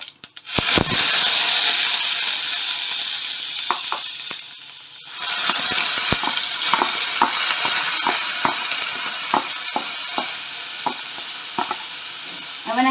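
Chopped onion hits hot oil in a pan with a loud burst of sizzling, then settles into steady frying crackle punctuated by sharp spattering pops and a few utensil clinks.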